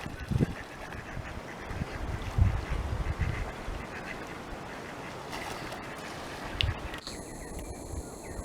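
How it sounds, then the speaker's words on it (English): A bundle of ducks on the water, outdoors in the wild, with scattered quacks and honk-like calls over a constant rushing background, one call standing out near the end. "Got a bundle of ducks."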